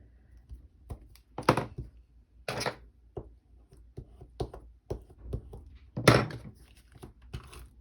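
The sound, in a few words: tape runner applying adhesive in scrapbook album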